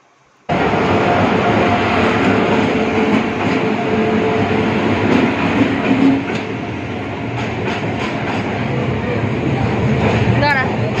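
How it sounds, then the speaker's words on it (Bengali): A passenger train pulls into a station at night on a Tamil Nadu to Kolkata journey, its steady rumble and clickety-clack loud and continuous from start to finish, with voices faintly audible beneath. "তো এই যে ট্রেন ঢুকছে।"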